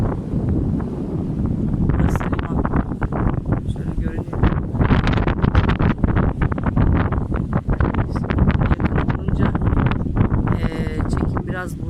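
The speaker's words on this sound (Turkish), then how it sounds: "rüzgar da bayağı çıktı ya" Heavy wind roars steadily across the microphone on a clifftop coast near Antalya, Turkey, loud and continuous with gusty fluctuations throughout.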